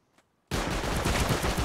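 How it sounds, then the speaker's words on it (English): A rocket launched at an armored turret in a video game bursts in suddenly after near silence, a loud rumbling blast that roars on steadily to the end. "I'm going to take it out with this rocket."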